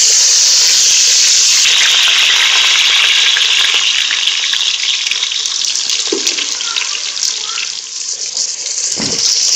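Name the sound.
onions frying in hot oil in a pot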